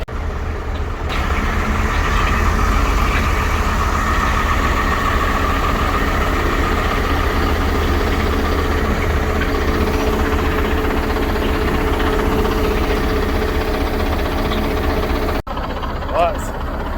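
A vintage lorry idles at an outdoor vintage vehicle show at Scone Palace, Scotland, a deep, steady low rumble that holds loud and continuous, with the engine cutting out near the end.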